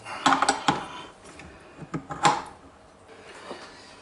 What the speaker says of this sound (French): Je vais mettre mon crochet à pétrir.